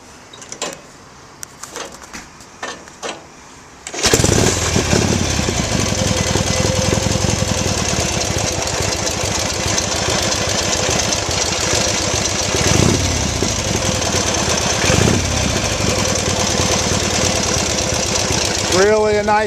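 A 1941 Indian Scout 741 Bobber motorcycle fires up after a few faint clicks, then settles into a loud, steady, lumpy idle with slight throttle blips, running close by.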